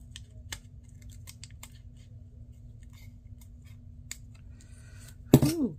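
Scissors cutting paper for a creative planner journal, with faint scattered snips and rustles, then one louder crisp cut close by near the end.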